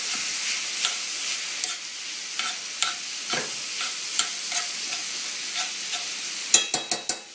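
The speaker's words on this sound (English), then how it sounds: "I'm going to throw the salmon in here. I'm going to break it up, mix it up a bit." Salmon and thawed peas being broken up and stirred in a sizzling pan, a soft steady frying hiss broken by regular scraping strokes, ending in a quick run of sharper utensil taps.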